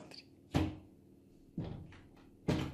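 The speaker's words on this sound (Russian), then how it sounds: "И то он себе сам дверь открывает." A puma opens a door by itself: three separate thuds of the door and latch, each followed by a short rattling decay, close by and with no voices.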